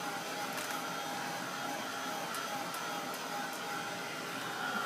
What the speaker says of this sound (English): don't keep your heat gun in one spot too long.